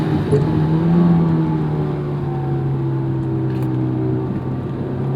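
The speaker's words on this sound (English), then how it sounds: "the engine, it has a beautiful character, it sings" The engine of a 2008 Honda S2000 AP2 hums steadily from inside the cabin, a loud, even drone that holds at a constant pitch with no speech.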